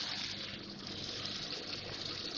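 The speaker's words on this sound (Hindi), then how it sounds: "अब इसमें मैं टमाटर डाल रही हूँ ब्लेंड किए हुए" Blended tomatoes pour into a pan of fried masala, giving a steady, close hiss and sizzle that runs unbroken and fairly loud, with no voice over it.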